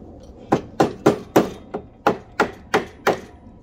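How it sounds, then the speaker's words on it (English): A hammer taps eight or nine times in a steady, fairly quick rhythm, each strike sharp and close with no voices over it. "We have a hammer."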